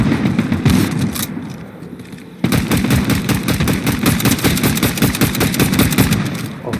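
Fortnite gunfire crackles in rapid automatic bursts, with dense overlapping shots that jump louder partway through and keep rattling steadily to the end.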